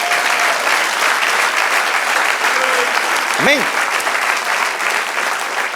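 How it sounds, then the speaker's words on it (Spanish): A church congregation applauds during a sermon, a dense, steady wash of clapping that fills the whole stretch while a voice briefly speaks over it. "Está el aplauso, celebra."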